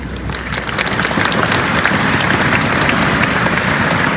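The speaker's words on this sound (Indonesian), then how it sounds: "tepuk tangan." Applause from a large audience at a BUMN recruitment launch event at Gelora Bung Karno stadium, a dense steady clapping that swells quickly and holds loud for several seconds with no voices on top.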